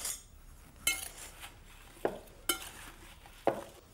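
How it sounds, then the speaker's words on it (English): Apple pie spices, including a pinch of allspice, stirred together in a bowl: a few distinct clinks and scrapes of a utensil against the bowl, spaced apart over quiet background. "And then I'm just gonna mix it all up."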